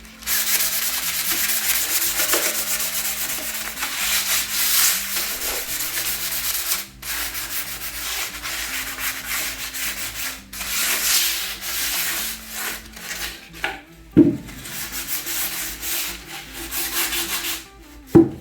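Wadded-up pad buffing a wood finish under firm pressure, a continuous loud scrubbing rub with a back-and-forth rhythm, pausing briefly a few times, with no voices.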